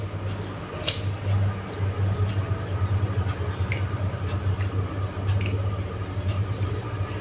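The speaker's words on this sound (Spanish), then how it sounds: "Hacemos que largue bien todos los líquidos, porque miren cuánto líquido tiene todavía" Cooked escarole is squeezed to press out its liquid, giving close, wet squishing and dripping sounds over a steady low hum, with no voices.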